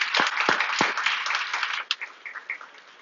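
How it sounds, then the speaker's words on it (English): An audience at a Toronto HR health and wellness event gives the speakers a brief round of applause, a burst of close, crisp clapping that thins out to a few scattered claps. "how about a quick round of applause for Marla and Signe?"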